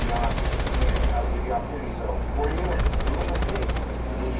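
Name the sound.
gunfire in video game Rainbow Six Siege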